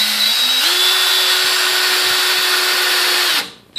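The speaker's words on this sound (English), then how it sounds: "start bringing your drill up so that you're on the vertical. Drill straight in on the vertical." A power drill with a paddle bit bores into a wooden stair for an iron baluster, running at a loud, steady pitch for about three seconds before cutting off abruptly.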